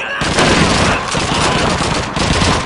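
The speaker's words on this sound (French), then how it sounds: "Mitrailleuse! Une MG-42!" An MG-42 machine gun fires in Call of Duty 2, a loud, dense, continuous rattle of rapid shots and booming battle noise filling the whole stretch.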